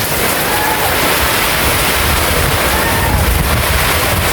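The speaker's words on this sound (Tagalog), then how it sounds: "Grabe, sobrang lakas na ng ulan." Dense, steady roar of heavy rainfall, loud and continuous with a windy, washing texture throughout.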